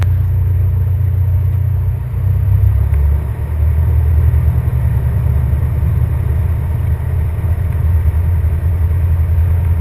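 Cessna light aircraft engine heard from inside the cabin during takeoff, a loud, steady low drone and rumble that holds constant throughout with no talk.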